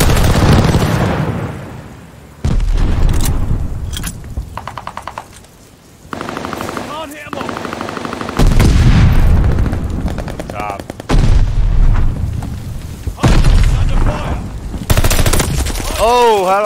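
Call of Duty Vanguard firefight during an airstrike, loud and close, with heavy booms, long bursts of automatic fire and short gaps where a voice speaks over the game sounds.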